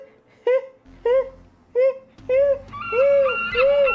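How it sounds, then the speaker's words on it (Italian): A seagull sound effect played at a tabletop role-playing session sends out a series of loud, close, wailing cries, first short and spaced, then longer and overlapping, with nobody talking over them. "quello che è il verso di un gabbiano, che è lì sopra uno dei rami delle palme."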